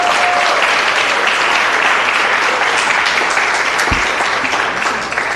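A big round of applause from a city council meeting audience honoring a high school lead counselor, dense steady clapping filling the whole stretch at an even level, tapering slightly at the end.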